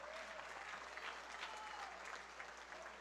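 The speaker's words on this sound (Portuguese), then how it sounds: "a quem eu peço uma salva de palmas" Applause from the audience at a swearing-in ceremony for the new president of a cultural foundation, steady and dense for about three seconds with no talking over it.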